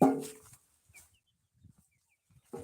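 Chicks on a farm beside a field give a few faint, thin peeps, with sharper fowl calls opening and closing the short stretch.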